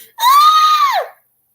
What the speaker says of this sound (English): I just screamed on there at the end.